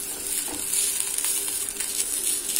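Rava dosa cooking on a large iron griddle, a steady crackling sizzle with fine bright spitting, close and unbroken, with no talk over it.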